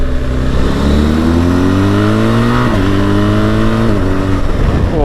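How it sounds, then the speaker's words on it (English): A BMW R1250GS TE Triple Black motorcycle revs hard through the gears, its engine note climbing steadily and dipping sharply at each quick-shifter upshift, loud and close with no talk. "Get up in the revs and it's just like a normal quick shifter."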